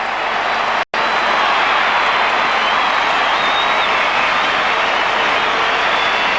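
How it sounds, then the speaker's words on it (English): A large football crowd at an AFL match between Geelong and Essendon at Kardinia Park roars continuously after a Gary Ablett goal, a loud, dense, sustained wall of cheering broken by one brief dropout. "The crowd get excited"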